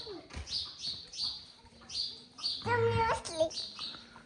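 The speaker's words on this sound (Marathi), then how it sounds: "चिमणी आहे चिमणी चिमणी." Sparrow chirps ring out in short, bright bursts, repeated every half second or so, while voices talk nearby in a village home.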